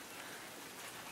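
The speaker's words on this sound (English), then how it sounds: "It's just lightly raining." Light rain from Tropical Storm Alberto patters steadily in a soft, even hiss, faint and continuous with no voices.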